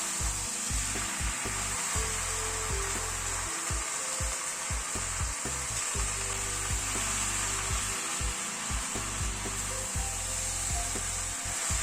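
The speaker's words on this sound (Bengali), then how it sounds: "স্পিনাচটাকে একটু মশলার সাথে কষিয়ে নেব।" Spinach frying with spices in a pan for dal gives a loud, continuous sizzle and hiss, with frequent quick spatula strokes scraping and knocking against the pan. No one speaks.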